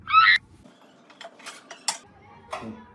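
A brief metallic clink opens, followed by a few light, scattered clatters of pressure cooker lids and pots at moderate distance with quiet gaps.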